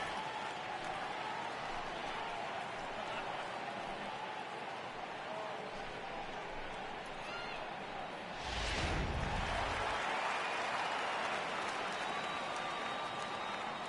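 A baseball video game stadium crowd murmurs in a steady, distant wash of noise beneath a commentator's voice, with a brief louder swell of cheering partway through.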